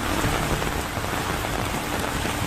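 Heavy rain pounding down during flooding, a loud, dense and unbroken hiss of drops with no voices over it.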